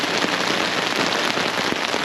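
Steady, heavy rain pattering at a motorcycle campsite, a dense continuous hiss with scattered sharper drops throughout, fairly close and loud, no voices.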